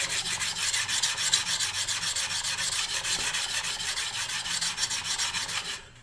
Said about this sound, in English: This is actually a sharpening steel.